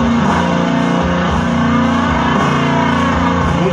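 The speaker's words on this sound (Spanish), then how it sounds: "Y ese bajo con un efecto, aparte de distorsión, me imagino que va a ser un poco de fuzz." A heavily distorted, fuzz-laden bass guitar plays a dense, loud, continuous line inside a full rock mix with cymbal wash, never dropping in level.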